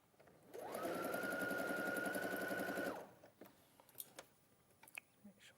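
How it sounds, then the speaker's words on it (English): Sewing machine running one continuous stitching pass through fabric, a steady fast mechanical whir close by for about two seconds, then stopping, followed by faint handling clicks. "I'm only going to stitch it once right now."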